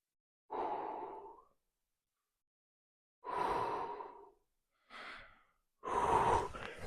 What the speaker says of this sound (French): Pareil, pense toujours à bien respirer.